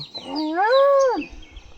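A voice imitates a cow's moo with one long, drawn-out call rising and falling, close and fairly loud.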